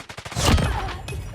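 Rapid gunfire in a shooting video game crackles in a loud burst of closely spaced shots, then rings out briefly.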